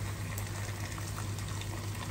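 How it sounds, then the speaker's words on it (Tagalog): Water poured into a cooking pot of sautéed garlic and onion for a soup, a steady close gushing rush with constant loudness and no talk. "Yan, nilalagyan amiga ng tubig."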